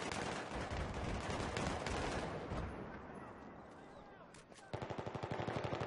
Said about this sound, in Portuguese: Quem que tá atirando?